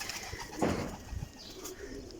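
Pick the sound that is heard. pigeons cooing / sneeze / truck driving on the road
pigeons cooing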